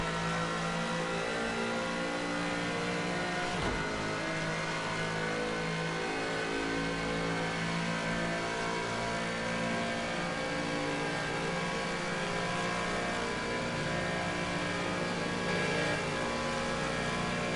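A race car engine drones continuously through a flying lap in the video game Project CARS 2, loud and steady with shifting revs and no talk over it.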